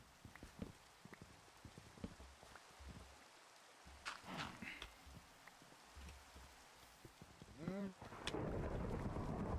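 A thunderstorm rumbles in Minecraft (All The Mods 7 modpack), with deep thunder rolls and the hiss of rain swelling toward the end, and a voice speaking briefly in between.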